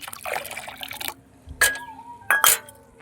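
Liquid mustard cake fertilizer, soaked four to five days, being stirred and thinned in water, with sloshing and splashing first, then two short separate pours or clinks of liquid, close and fairly soft.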